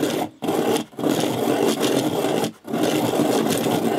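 A Dahle 133 hand-crank pencil sharpener grinds a pencil in steady rasping, scraping strokes, loud and close, with two brief pauses between cranks and no talk.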